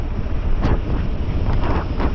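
A loud, continuous roar of rushing water from Surlabbi Waterfalls in Coorg, buffeted by wind noise on the microphone.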